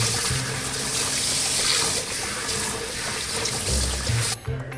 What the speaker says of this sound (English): I'm gonna drain the water out and then I'm going to rinse my hair